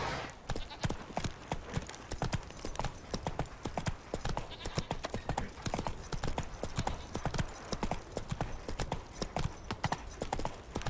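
Roach, the horse in The Witcher 3, gallops with rapid, rhythmic hoofbeats that run steadily and close throughout under a bed of game ambience.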